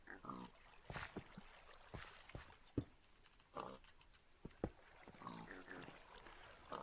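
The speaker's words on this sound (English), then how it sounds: "Come on, pigs, move out of the way." Pigs oinking in the video game Minecraft, a series of short nasal grunts scattered irregularly over several seconds, fairly faint, with clicking footstep-like ticks between them.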